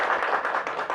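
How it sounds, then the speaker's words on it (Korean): A brief round of clapping from a small audience, a rhythmic patter of hand claps that is moderately loud and lasts about a second. "너무 두 분 활약에 응원 드리는 박수 한번"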